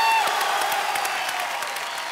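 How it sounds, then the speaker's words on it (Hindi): Dense applause from a studio audience at a Hindi television chat show, a loud, steady wash of clapping that fades slightly toward the end, with faint crowd murmur underneath. "तो जोरदार तालियों से बताइए"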